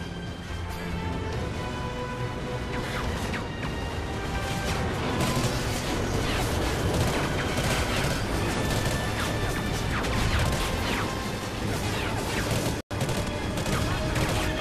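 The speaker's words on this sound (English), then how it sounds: "They're shooting me!" Enemy gunfire in the Call of Duty: Ghosts campaign, a continuous loud barrage of overlapping shots and crashing impacts, with a brief dropout near the end.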